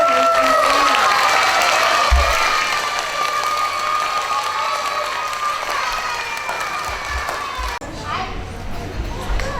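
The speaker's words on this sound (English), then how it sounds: "So let's give Irie a cheer" A school audience of children at Jefferson applauds and cheers loudly for the Student of the Month, a dense crackle of clapping with shouts that thins and softens toward the end, ending in a brief quieter moment.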